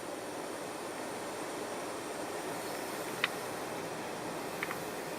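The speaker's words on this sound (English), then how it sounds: "the abnormal hissing noise is still there" Constant broadband hissing from an HVAC unit suspected of leaking refrigerant, steady and unbroken throughout with a couple of faint ticks, no voices present.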